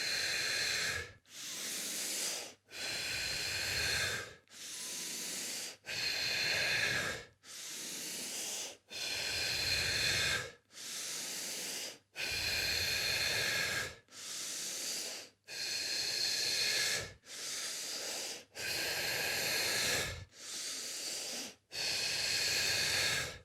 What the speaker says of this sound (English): So now one more set of breaths.